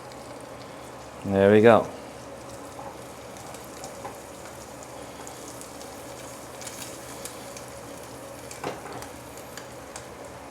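Eggs frying well done in a hot pan for ramen give a steady, faint sizzle throughout, with a short burst of speech near the start.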